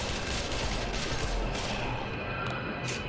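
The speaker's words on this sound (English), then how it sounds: "Finally, start shooting." Dense gunfire in Breach & Clear: Deadline Rebirth, a loud sustained barrage of overlapping shots and bursts with a few sharper cracks standing out.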